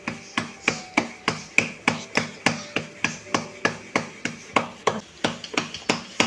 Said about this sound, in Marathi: एक हात असा बाजूला लावून दुसऱ्या हाताने आपल्याला भाकरी थापायची आहे